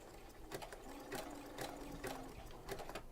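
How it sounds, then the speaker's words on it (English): A sewing machine fitted with a pearls and sequins foot stitches slowly around a curve, with faint, close needle pulses coming in short bursts over a steady low hum. "you do have to sew kind of slowly for curve like this"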